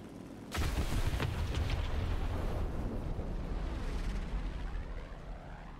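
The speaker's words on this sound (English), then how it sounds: "Brun was the one that finished the Chaika off and the plane crashed." Soviet I-153 Chaika biplane crashing, a sudden loud explosive boom followed by a long rumbling roar that slowly fades.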